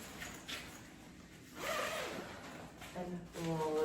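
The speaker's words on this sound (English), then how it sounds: "you'll just zip it" A zipper runs along the fabric cover of a clothes rack in a few short, close pulls, quiet overall but crisp, with faint tonal rasps toward the end.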